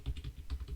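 Quick keystrokes on a computer keyboard, about six close, soft clicks in a brisk rhythm with no voice.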